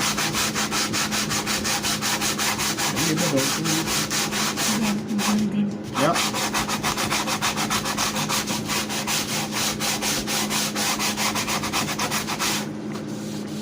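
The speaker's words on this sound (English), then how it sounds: "start working away, start doing some sanding" Wood is sanded by hand for a rustic-style reverse canvas. Close, continuous rasping strokes repeat in a quick, steady back-and-forth rhythm, with one short spoken word midway.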